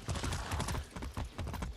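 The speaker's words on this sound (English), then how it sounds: "I need your horse." Horse hooves clip-clop in a quick, continuous rhythm in the Far Cry 6 video game, close and loud for the whole short stretch.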